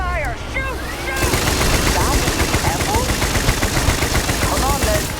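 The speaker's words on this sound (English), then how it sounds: "I don't care, shoot it. Concentrate fire! Shoot! Shoot!" Sustained automatic gunfire in the space game Starfield, loud rapid bursts running almost continuously over a rumbling background after a brief quieter opening.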